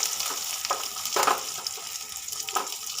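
Crushed ginger sizzles in oil alongside fried taro, with a continuous frying hiss broken by several spoon-stirring scrapes.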